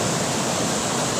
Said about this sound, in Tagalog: Itong dalawang small na falls, dalawa ho ito.